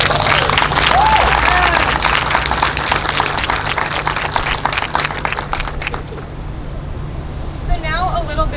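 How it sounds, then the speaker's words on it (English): Crowd applause at a PepsiCo recognition event, clapping for honorees. It starts full and fairly loud, then fades over about six seconds into a quieter room hum with a faint voice near the end. "Give them a round of applause."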